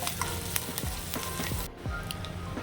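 Curry leaves, ginger, green chilli and cashews sizzle in hot oil in a pan for curd rice, with a spoon scraping and stirring in quick repeated strokes close by.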